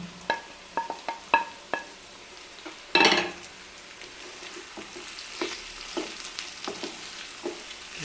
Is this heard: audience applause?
no